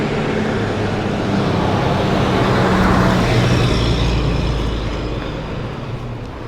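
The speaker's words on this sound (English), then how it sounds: "It's a fire truck coming through" A fire truck rolls through city street traffic, a steady loud broadband wash of engine and road noise that swells toward the middle and eases off as it passes close by.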